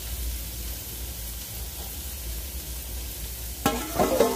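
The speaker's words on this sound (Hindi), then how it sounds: "ये देखिए उबाल आने लगा है" Amla murabba (Indian gooseberry preserve) boiling in a pot on a home kitchen stove, a steady soft bubbling hiss throughout, with a brief louder clatter near the end.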